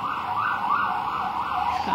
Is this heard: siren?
yes